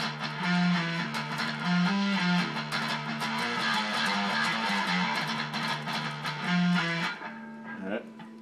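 A guitar plays a riff from a metalcore song, using pull-offs in clear repeated picked notes with a low pedal-like bass line, then trails off near the end.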